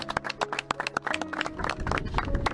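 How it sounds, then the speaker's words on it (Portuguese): An audience at a book presentation in Portugal breaks into applause: a few sharp, separate claps at first, quickly thickening into fuller, overlapping clapping from a modest crowd. "Salve de palmas."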